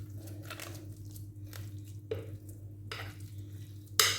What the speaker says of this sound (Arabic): دابا غادي نخلطو مزيان غير باش يتخلط كلشي